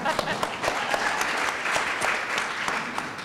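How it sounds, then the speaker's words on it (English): Audience applause at a residential real estate panel forum in New York, a steady wash of many hands clapping that fills the room, with some talk heard underneath. "if you can applaud for that if you want."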